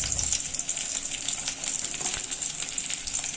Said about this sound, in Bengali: কাতলা মাছের যে পিসগুলো রাখা ছিল সেগুলো আস্তে আস্তে ভেজে নিচ্ছি।